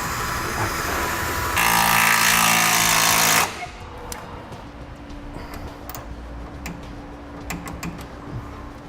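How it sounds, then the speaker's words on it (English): A torque wrench tightens a bracket bolt while Air Lift LoadLifter 7500 XL air helper springs are fitted to a 2017 Chevrolet. A loud buzzing tool burst is followed by a series of sharp, separate clicks close by. "Now we'll torque that bolt to the amount specified in the instructions."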